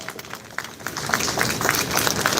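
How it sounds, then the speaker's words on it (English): Applause from an audience at a DLF Privana North real estate event grows fuller and louder, a dense crowd of clapping hands building into a sustained, even roar. "A bigger and stronger round of applause."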